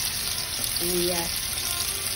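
Onions fry in a pan for adobo, a continuous close sizzle with no strokes or scrapes standing out, and a brief voice-like tone in the middle of the short stretch.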